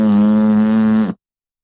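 A person buzzes their lips to imitate an elk call without a diaphragm call, giving one steady, droning buzz for about a second that cuts off abruptly into silence, loud and close.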